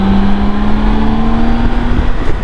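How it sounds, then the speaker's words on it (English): A 2023 BMW K1600 Grand America touring motorcycle's stock exhaust rumbles loud and close, a deep steady note rising slowly in pitch as the throttle is opened, with no one talking. "The thing I like the most about this bike is that exhaust note."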